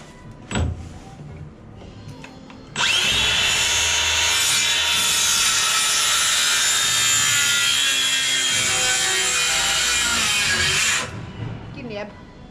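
A handsaw cuts through a wooden batten during interior drywall work, with steady fast back-and-forth strokes for about eight seconds, loud and close, after a brief knock and some quiet background.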